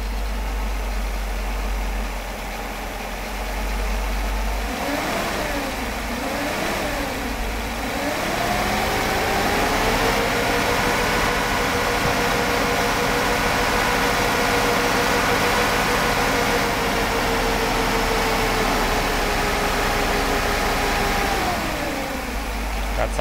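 Engine of a Mercedes 500SL idling during a throttle actuator test, a steady close hum with slight shifts in speed throughout, no talking.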